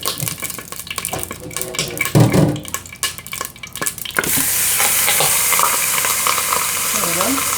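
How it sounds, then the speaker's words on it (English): A pot roast browning in a hot pan with popping grease: a steady, close sizzle that swells after a few seconds into a dense continuous hiss, with scattered clatter early on. "So what I'm going to do is put my roast into brown"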